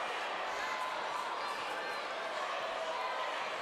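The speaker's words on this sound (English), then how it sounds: "The crowd is still humming after that rejection by Moussa Cisse." A steady, continuous hum rises from a basketball crowd at a high school championship final after a blocked shot, a broad murmur filling the gym without sharp peaks.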